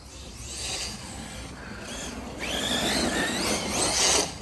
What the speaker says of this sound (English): You hear that drive shaft? It's going crazy in there.